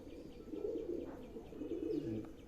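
A male pigeon coos in low, rolling phrases, close and steady, with a few faint chirps from other birds behind it.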